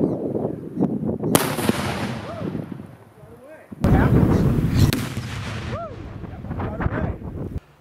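Ordnance-lab explosive charges set off with a hand-cranked blasting device boom loudly twice, a sharp blast followed by a heavier one, each trailing a rumbling tail, while people talk and cheer around them.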